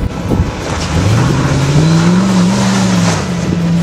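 A Local Motors Rally Fighter with a GM LS3 engine, aluminum wheels and a roughly 3,600-pound build drives over bumps, its engine rising in a loud, steady drone close by.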